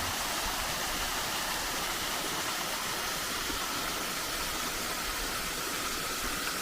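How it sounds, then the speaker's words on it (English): Waterfall on the Rhododendron Trail near Mount Airy, Georgia, spilling into a small pool below, heard up close as a steady, loud broadband rush of falling water that holds even and unbroken throughout. "But beautiful waterfall with"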